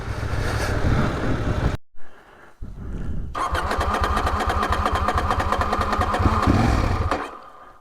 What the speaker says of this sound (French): La moto a du mal à démarrer